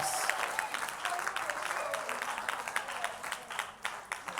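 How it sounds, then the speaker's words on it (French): Audience applause and scattered clapping for a woman pastor at a women-in-ministry church conference, a steady dense patter of many hands at moderate distance filling the room, with some cheering voices mixed in. "Acclamez pour la maman pasteur à côté de toi"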